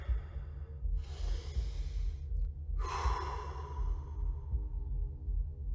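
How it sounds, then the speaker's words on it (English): Slow, deep breathing during a meditation session: a long inhale and a fuller exhale, close and alone over a low steady background hum. "So let's begin by taking a few deep breaths."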